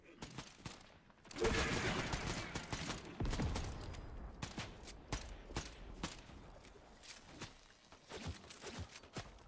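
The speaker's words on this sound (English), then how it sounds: "I'm shooting from above." Fortnite gunfire: a long run of sharp, crackling shots and rapid bursts, irregular and fairly close, with a few quieter gaps. Faint voices occasionally come through beneath the shooting.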